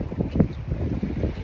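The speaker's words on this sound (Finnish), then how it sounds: "Saatiin vihdoinkin tuulta." Steady, rushing wind buffets a microphone aboard a sailboat at night, a continuous low roar without clear gusts or other sounds.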